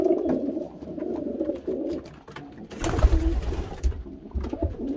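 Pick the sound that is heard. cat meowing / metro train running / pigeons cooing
pigeons cooing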